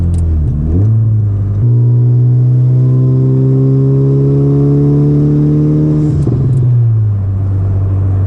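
A K-swapped Honda Civic Si engine revs up loudly and holds a rising, droning tone before easing off, heard close and alone.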